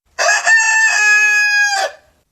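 A pet bird imitates a rooster's cock-a-doodle-doo, giving one loud, close, drawn-out crow that holds a steady pitch for nearly two seconds and then breaks off. No one talks over it.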